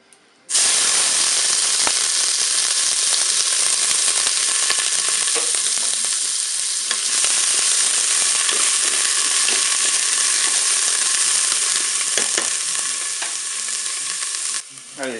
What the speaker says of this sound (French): je vais faire revenir mes oignons